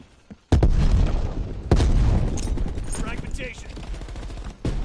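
A fragmentation grenade goes off in the shooter game Black Ops Cold War, two loud booming blasts about a second apart with gunfire-like crackle and a rumbling tail between them.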